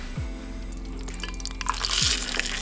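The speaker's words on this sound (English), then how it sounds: "as the meat cooks, it will actually shrink" Meat crackles and sizzles in a hot frying pan on a gasoline camp stove outdoors, bright hissing pops growing louder, with a low droning hum and rumble in the background.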